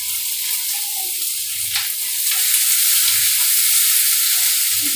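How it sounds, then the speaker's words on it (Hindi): Curry leaves hit hot oil in a tadka with a loud, hissing sizzle that surges and grows fuller partway through, then holds steady, close up with faint low knocks and no speech. "साथ में ये जो कड़ी पत्ता है वो डाल दूंगी"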